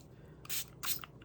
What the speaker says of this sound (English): Where's my spray? Give it a couple shots